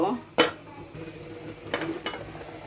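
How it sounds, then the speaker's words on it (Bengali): A lid going onto a pot of rohu fish curry after water is added, with a sharp metallic clank followed by a few fainter knocks and rattles over a low background. "এখন জল দিয়ে দিব এখন আবার একটু ডাকনা দিয়ে দিব"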